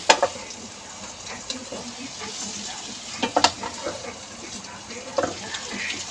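A spoon scrapes and stirs food frying in a pan in a home kitchen, with a low sizzle under a few sharp clinks at the start and again midway, in clear close range.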